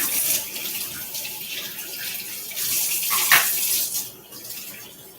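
Hot water runs from a kitchen tap in a home kitchen while preparing French bread dough, a steady hissing splash heard up close, with a brief clink partway through and the flow easing near the end.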